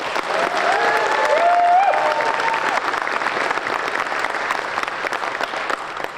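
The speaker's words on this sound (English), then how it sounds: "I'd like everyone to give a warm round of applause to Timothy Zahn." Warm audience applause fills a convention panel room at a Star Wars authors' session at DragonCon 2024, a steady dense clapping that holds loud for several seconds before easing slightly, with faint voices mixed in.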